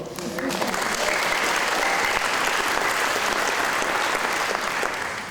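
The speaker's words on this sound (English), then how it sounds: "make sure that we can give them their due appreciation and applause" Sustained, dense applause from an audience at a summer music camp concert, steady and loud for about five seconds before tapering off slightly at the end.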